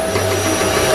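An Arçelik vacuum cleaner runs with a loud, steady motor whine and airy hum, close and continuous for a brief moment.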